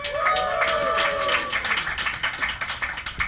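A Dragon*Con convention crowd claps and cheers loudly, with shrill whoops over the clapping at first, then thinning into scattered claps.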